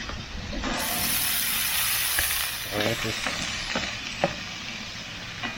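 Butter hits oil on a flat grill while cooking chicken fried rice, a loud, close, continuous sizzle with occasional scraping clicks and a faint voice underneath.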